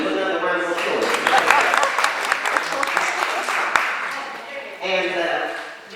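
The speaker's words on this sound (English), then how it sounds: "Give Cube another round of applause." A room of fundraiser attendees gives a round of applause, a dense, sustained wash of clapping and cheering that swells and fades over several seconds.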